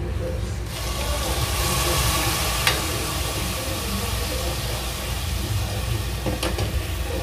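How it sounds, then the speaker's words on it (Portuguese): Bacon risotto of arborio rice stirred in a pot while vegetable broth is ladled in, giving a steady close simmering hiss and wet churning with a couple of brief clinks, no voices. "E sempre mexendo para desenvolver, para realmente ele liberar o amido."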